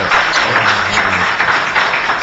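Audience applause breaks out at a city council hearing on housing and community development, a dense, loud wash of clapping that fills the whole short stretch without pause.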